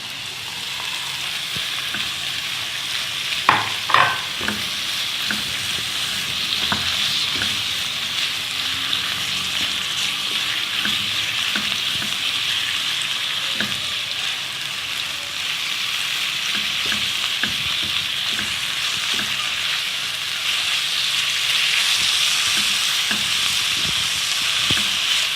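Minced meat frying with onions over medium heat for a spaghetti meat sauce, a continuous close sizzle and crackle broken by occasional spoon scrapes and stirring knocks against the pan.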